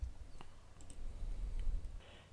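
Several sharp computer mouse clicks, quiet and close, spaced irregularly over a low background hum while adding a plugin in a WordPress dashboard.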